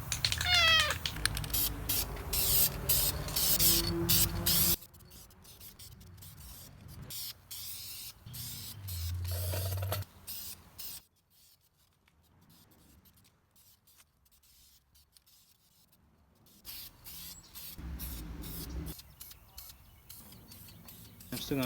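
Spray paint hisses in bursts onto a Jeep Rubicon being painted red, while a cat meows nearby, with a quiet stretch midway.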